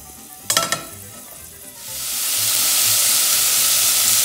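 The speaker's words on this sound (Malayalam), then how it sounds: "ഞാൻ ചോപ്പ് ചെയ്ത് വെച്ചിരിക്കുന്ന ഈ ഐറ്റംസ് മുഴുവനും കൂടെ ഈ പാനിലേക്ക് ഇടാൻ പോവാണ്" Chopped meat and vegetables dropped into a pan of hot oil, a couple of sharp clatters followed by a loud, steady sizzle that swells and holds.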